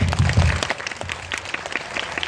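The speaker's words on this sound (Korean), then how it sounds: "큰 박수 부탁드릴게요." Audience applause from around 280 viewers at a Korean film talk event, a dense steady wash of clapping, with a low thump or rumble near the start.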